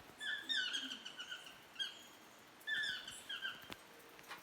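Squeaky, yelping yellow-throated toucan calls repeat in quick clustered bursts, fairly close with quiet gaps between, sounding like a squeaky toy.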